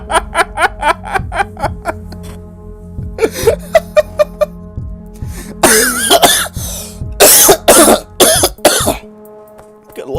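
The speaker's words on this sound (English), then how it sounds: "I laughed so hard I started coughing" A person coughing repeatedly after a fit of laughter, with snickers and wheezy laughs mixed into harsh, close, loud coughs in an uneven rhythm.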